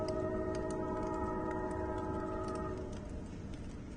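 A train rolls through town on the far side, a steady distant rumble with drawn-out horn tones early on that fade after a few seconds, leaving only the low roar.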